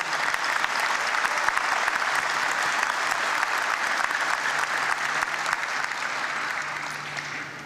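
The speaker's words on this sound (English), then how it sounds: "if we can give a round of applause to all of the families who are here" A large audience at a Boston police academy graduation gives a long, loud, steady round of applause for the families, dense clapping filling the hall and tapering slightly at the end.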